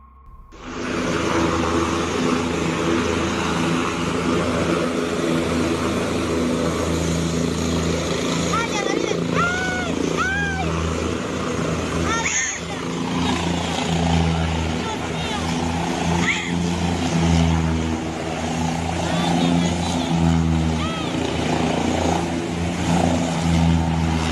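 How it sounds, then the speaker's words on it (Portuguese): Helicopter spinning out of control on the ground while boarding, a loud continuous rotor and turbine roar with shifting whine, close and sustained, with brief sharp noises partway through. "O helicóptero começou a girar de forma descontrolada ainda no solo."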